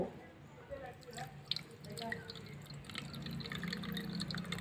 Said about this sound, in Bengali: এবারে আমি এই পোস্তটা জল দিয়ে ভালো করে ধুয়ে নেব আর তারপরে বাটবো।